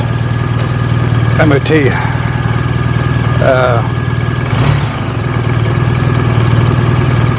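A BMW R1250RT motorcycle engine idles steadily with a low, even throb throughout, while someone talks over it with brief vocal bursts.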